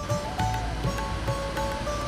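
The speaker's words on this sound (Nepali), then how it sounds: "यहाँदेखि झरिरहेको छ पानी चाहिँ होइन।" Water flowing down over rocks outdoors, a steady, full rushing wash with no breaks.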